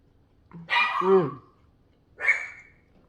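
A small dog gives two sharp, high-pitched barks close by, the first slightly longer and more yelping, then silence.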